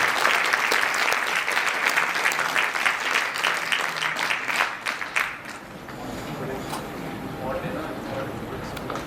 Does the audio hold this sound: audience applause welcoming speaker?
yes